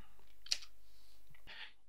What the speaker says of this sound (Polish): klikam Enter